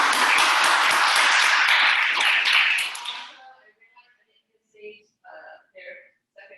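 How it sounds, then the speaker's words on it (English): Audience applause at a poetry open mic, a dense burst of clapping that holds steady for about three seconds, then fades out and gives way to a few short, quiet bits of talk. "One more round of applause."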